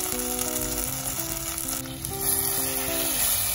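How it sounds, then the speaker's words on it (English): Tomatoes and spring onion stalks sizzle in hot oil in a pan, a steady close frying hiss with faint scrapes of stirring. "Add spring onion stalks and stir fry it. Next, add in the tomatoes."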